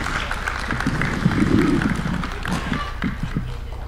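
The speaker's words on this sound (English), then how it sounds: "Another round of applause for His Excellency." Audience applause for the President at a State House event, a steady wash of clapping from a crowd that holds at a fairly even level throughout, with a swell in the middle and no clear speech on top.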